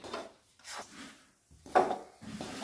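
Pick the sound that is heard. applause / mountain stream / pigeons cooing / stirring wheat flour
stirring wheat flour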